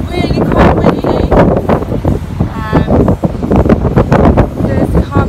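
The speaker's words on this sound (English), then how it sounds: "It's really quite windy." Strong, gusty wind roars and buffets the microphone continuously aboard a cruise ship in the Norwegian fjords, with rumbling low noise throughout and faint voices in the background.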